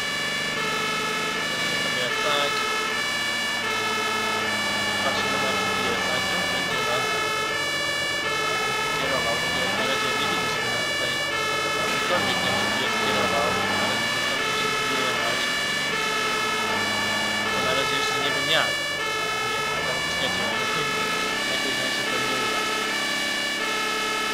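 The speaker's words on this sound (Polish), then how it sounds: "I włączymy sobie syren." A fire engine siren from a Polish fire brigade truck heading to a car fire call wails in repeated rising and falling sweeps, loud and close over the engine's rumble throughout.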